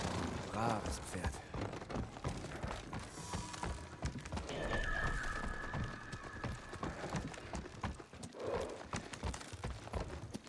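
Horse hooves clip-clop at a gallop in the video game Ghost of Tsushima, with a neigh breaking through the steady rhythmic drumming, all under ongoing game sounds and a player talking over it.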